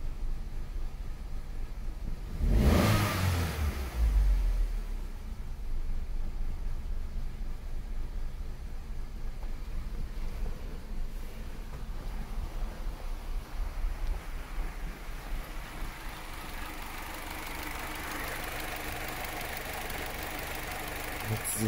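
A faltering Opel Combo engine, suspected faulty lambda sensor, idles low with a brief rev near the start, then runs on unevenly with slight stutter, recorded close up outdoors with wind noise.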